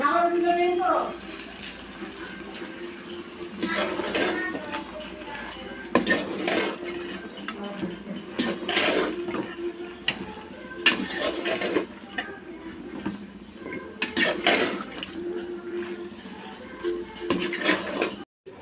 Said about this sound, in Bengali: তো লাউটাকে এখন আমি মশলার সাথে মিক্স করে নেব।